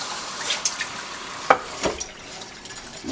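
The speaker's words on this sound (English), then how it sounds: "Add your water." Cold water is added to washed rice in a pot, giving soft splashes and drips with a brief sharper plink midway; the sound is close and quiet, with no talking.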